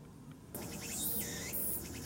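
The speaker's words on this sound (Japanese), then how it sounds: "セミが鳴いています。" Insects, likely cicadas, shrill steadily in a park on an autumn day, a loud continuous buzzing drone that starts abruptly and then holds, swelling and dipping slightly in pitch, with no talking.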